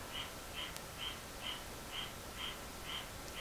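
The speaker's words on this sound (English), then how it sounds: "Can you hear the frog outside?" Outside in the country after a short rain, a frog gives a faint, regular call about twice a second, distant and quiet beneath soft background hiss.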